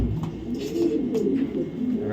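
Racing pigeons coo close by in a short run of low, throaty, burbling calls, fairly soft, with faint background noise.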